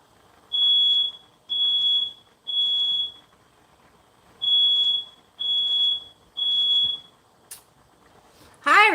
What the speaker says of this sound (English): my smoke detector keeps going off for some reason